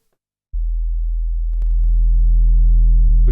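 A synthesized sine wave tone sounds alone as a pure, low steady hum, then a waveshaper adds a growing stack of harmonics that makes it buzzier and brighter.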